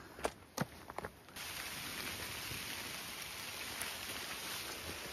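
Steady rain falls outdoors on the South West Coast Path near Port Heather. A few footsteps and knocks come first, then an even, hissing wash of rainfall sets in and continues at moderate volume.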